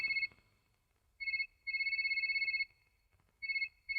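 A telephone rings in a drama film, with repeated electronic trilling bursts separated by short pauses, fairly quiet against a nearly silent room.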